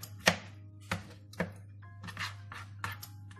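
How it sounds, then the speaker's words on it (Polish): A knife chops tomatoes into small pieces on a board, about seven sharp, irregular taps close up over a faint steady hum. "I kroimy na takie małe."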